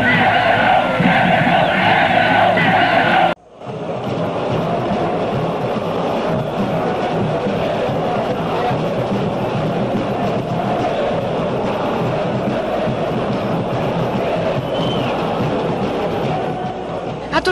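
Corinthians football supporters in a stadium, waving flags as the team takes the field, roar and chant in a loud, continuous crowd din. A short cut is followed by a sustained wall of cheering.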